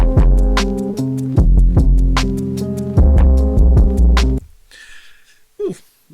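A punchy beat from a Roland SP-404 MK2 sampler fed through a Korg Monotron Delay, with heavy booming bass hits and bright tonal stabs looping loudly for about four seconds, then a faint delay tail and a brief warble.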